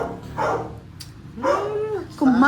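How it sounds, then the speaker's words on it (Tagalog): A dog barks a few times at close range, loud yelping bursts spread across a short stretch, with some low room noise between them. "Kumakahol-kahol ang aso. Aso ay tumatahol-tahol."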